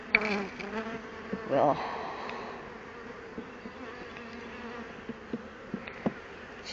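Honey bees buzz steadily throughout a spring hive inspection, a dense close drone with a louder swell early on and a few soft knocks from hive equipment, while a voice speaks briefly under the hum.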